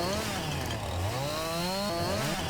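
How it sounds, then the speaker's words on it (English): Chainsaw cutting through a hedge in a farming video game, a loud continuous engine drone with rising and falling pitch as the throttle revs, close and steady throughout. "If you go to the post, get your chainsaw out, you can then cut it."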